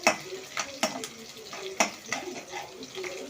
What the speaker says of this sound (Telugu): ఇది ఫ్రై అవుతా ఉంది.